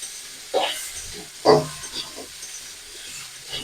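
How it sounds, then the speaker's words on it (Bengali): Cumin powder stirred into a cooking banana stem and papaya curry, giving two short scraping stirs a second apart over a faint background sizzle, with no talking. "জিরে গুঁড়োটা দিয়ে ভালো করে মিশিয়ে দেবো"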